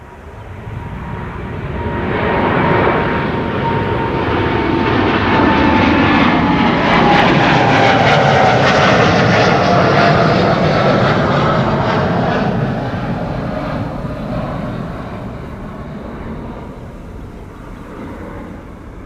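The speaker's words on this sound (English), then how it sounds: "This is KLM flight 641 to New York JFK. 787-10 Dreamliner" A KLM Boeing 787-10 Dreamliner on its way to New York JFK departs Schiphol, a loud roaring jet engine swelling in, holding strong for several seconds, then slowly fading with the aircraft into the distance.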